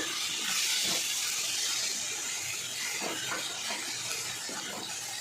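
Fish head frying with banana flower in a pan for a Bengali mocha dish, giving a steady loud hiss of sizzling oil throughout, with faint stirring clinks.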